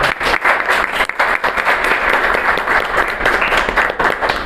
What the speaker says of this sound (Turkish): Bir alkış da burada olmayan hocalarımıza alalım